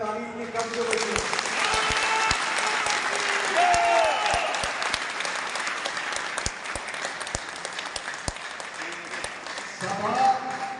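A large crowd at a political rally claps in sustained, dense applause with scattered sharp individual claps, loud and continuous for the whole stretch, with faint voices rising over it near the end.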